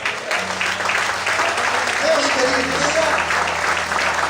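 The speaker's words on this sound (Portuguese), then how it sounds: "Você pode aplaudir o Senhor nessa noite." A church congregation applauds during a Portuguese-language sermon, a broad wash of clapping that fills the clip while a voice and faint musical tones carry underneath.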